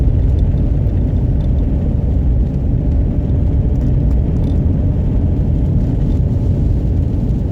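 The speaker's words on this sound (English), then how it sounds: "Yeah, I'm driving on ice, I can tell you that." A car travels a snowy, icy stretch of the Coquihalla Highway in heavy snow and wind, producing a loud, unbroken cabin rumble of tyres and road noise throughout, with no talk.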